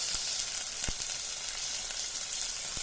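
Tomatoes added to a frying pan with papaya, a steady close sizzle and crackle of frying with a few soft stirring taps.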